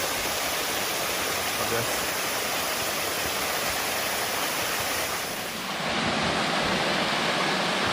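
A rushing branch of the Gale River beside a wooded bushwhack trail gives a steady, dense roar of flowing water close by, continuous throughout, with a voice speaking briefly over it.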